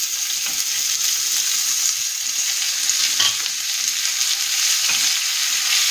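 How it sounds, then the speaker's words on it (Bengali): Chopped onions hit hot oil with tempered spices in a pan for a mutton curry dish, giving a steady, dense sizzle and crackle throughout, with a couple of soft stirring scrapes and no voices. "ফোড়নটা ভাজা হয়ে গেছে, এবার আমি পেঁয়াজ কুচি দিয়ে দিলাম।"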